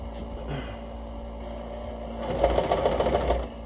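A sewing machine whirs briefly while stitching a zigzag stitch, then stitches faster with a rapid mechanical chatter near the end, close and fairly quiet.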